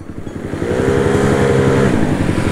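A Yamaha Mio racing-spec scooter engine revs hard and close, a loud steady throaty drone with rapid firing pulses that builds after a brief idle, with no talking over it.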